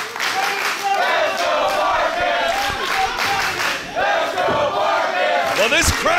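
Wrestling crowd at an H2O Wrestling Academy match roaring and shouting continuously, loud and dense throughout with sharp individual yells rising out of the din.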